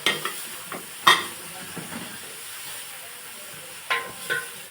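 Chopped tomatoes and two grated carrots fry in a pan for kabsa, giving a steady soft sizzle with a few sharp scraping stirs and clinks near the start and end.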